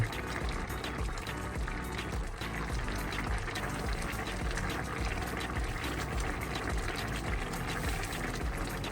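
Water bubbles and churns at a steady rolling boil in a cooking pot, a dense continuous sputter close up that never pauses.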